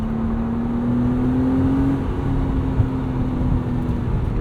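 1999 BMW Z3 M Roadster accelerating, a steady engine drone heard from inside, its pitch climbing gradually and then settling as revs change, loud and continuous.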